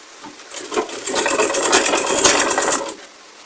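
A sewing machine stitches fabric for a turban cap in a rapid, close mechanical run of about two and a half seconds, with rattling needle strokes and a steady high whir.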